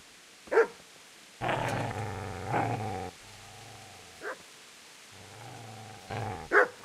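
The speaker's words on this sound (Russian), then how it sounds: "Я ж думал пойти посмотреть, что там за собака лает." In the video game Kingdom Come: Deliverance, a dog gives sharp barks and long, rumbling growls, close and loud, with barks at the start and end around two extended snarls.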